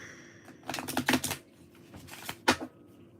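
Tarot cards are shuffled and drawn, with a quick burst of riffling and flicking followed by a couple of sharp snaps as cards are set down, close by and alone.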